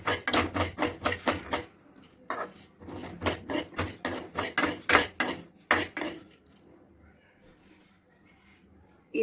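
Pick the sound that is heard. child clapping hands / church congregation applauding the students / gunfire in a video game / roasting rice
roasting rice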